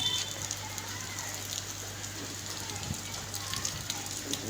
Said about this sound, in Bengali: ছেলে মেয়েরা কেউ কেউ গোসল করছে ঝিরিঝিরি বাতা বৃষ্টিতে